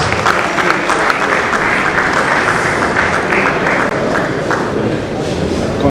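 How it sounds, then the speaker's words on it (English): A loud, dense round of applause from a large crowd at a labour house gathering, continuous clapping with a few cheers carrying steadily from start to finish. "A round of applause for him, please."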